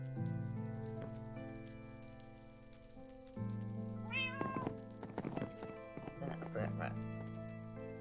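A stray cat in the video game Catastrophic Pandamonium gives a few short, clear meows midway, over steady, looping tonal game music and soft pattering sounds.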